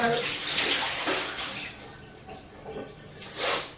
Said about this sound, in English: gonna wash the leaves